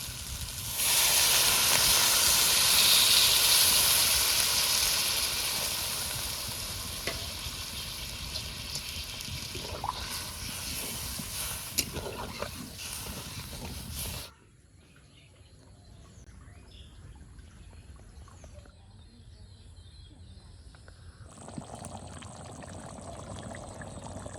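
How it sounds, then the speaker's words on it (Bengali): Water poured into spiced potatoes in a hot pan for aloo dum, a loud sizzling hiss at first that fades to a quieter simmer, with birds faintly in the background. "এবার জল দিয়ে দেবো"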